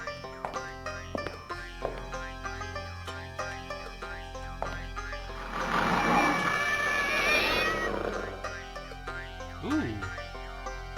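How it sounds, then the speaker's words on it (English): A cat's yowl from the video game Alone in the Dark 3 rises midway over looping game music and effects, fairly faint and brief. "That's usually what that cat sound means"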